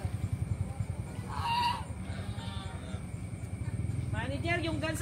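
Geese honk repeatedly in a farm field, a loud cluster of calls up close, with other farm fowl clucking and chattering around them.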